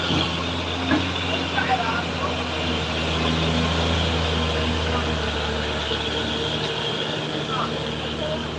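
Loaded 35-ton dump truck climbing a steep road at Sitinjau Lauik, a steady low engine drone with heavy rumble throughout, fairly close and constant.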